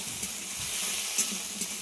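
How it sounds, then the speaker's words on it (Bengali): Potato pieces cut for a Bengali chorchori-style dish fry in a pan with a steady close sizzle and occasional stirring clicks. "আলুটাকে খুব ভালো করে ভেজে নেব।"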